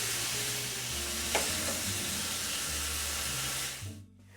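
Onions, peppers and garlic for peperonata cook in a pan with a continuous close hiss and sizzle, fading out near the end with a soft stir or two.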